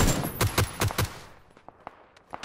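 Gunfire in a shooter video game: a rapid burst of about five loud shots, followed by scattered fainter, more distant single shots.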